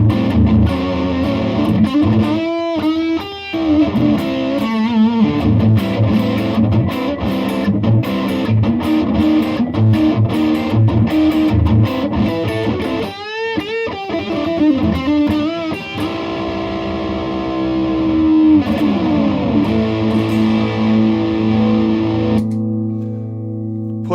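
Electric guitar lead tone on the neck pickup driven through a hot-running fuzz and effects, playing sustained bends and fast runs over a steady loud drone, continuous and close with no talking.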